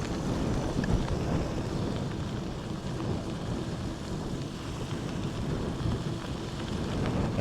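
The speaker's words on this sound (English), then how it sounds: "I feel a little bit of sun, but I feel mostly rain." Rain falls during a bike ride near Eagle Nest, New Mexico, a steady close wash of noise mixed with rumbling wind buffeting the microphone throughout, with no talking.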